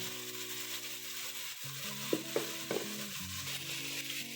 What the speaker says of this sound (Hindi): अब इसको भून लेना है